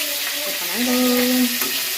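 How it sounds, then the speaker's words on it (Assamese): Oil sizzling and spitting in a pan as fish fries, a busy crackle with a faint tonal ring running beneath. "মাছ ভাজি হৈ আছে"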